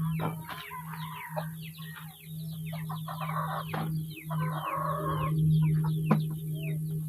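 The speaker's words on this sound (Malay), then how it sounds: "Perlu ambil dulu anak-anak ayam ni." Chickens and young chicks cluck and cheep continuously on a farm plot, with a steady low hum running underneath and one sharp rise near the end.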